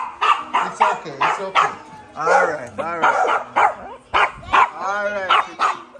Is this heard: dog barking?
yes